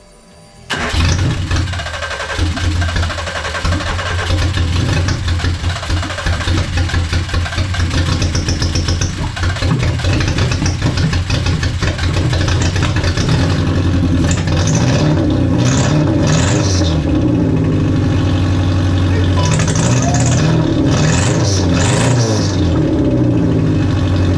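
A classic Mini fitted with a Nissan engine cranks briefly, catches and roars to life, settling into a loud, close, rough idle punctuated by repeated revs rising and falling.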